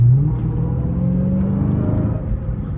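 A 717-horsepower Dodge Hellcat Widebody Jailbreak on the road, heard from inside the car, its engine giving a deep steady rumble that rises briefly in pitch as it revs, loud and continuous with no voices.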